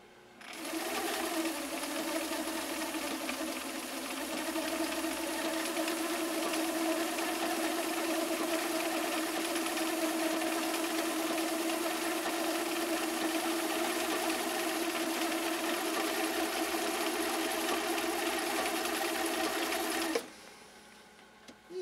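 A refurbished Viking 6370 sewing machine runs a final technical stitch on cam B, a steady close mechanical whir with a fast even needle rhythm that holds for about twenty seconds and then stops abruptly.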